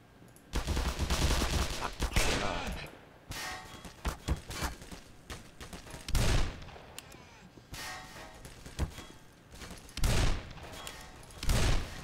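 Gunfire in the game Black Mesa, with loud, punchy shots from a revolver and other weapons popping repeatedly through a busy battle, heavy booming blasts spaced out among the crackle.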